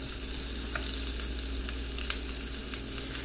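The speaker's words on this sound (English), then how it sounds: "Next I'm going to add the onion straight from the cookie sheet into the middle of the pan." Onion frying in the middle of a stir fry pan, a steady close sizzle with crackling pops scattered throughout, under a low constant hum, no talking.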